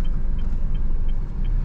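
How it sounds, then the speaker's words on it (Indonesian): Low engine rumble of a car idling and slowly pulling away after the handbrake is released, steady and close, with no talking. "Ini sudah mulai bergerak mobilnya."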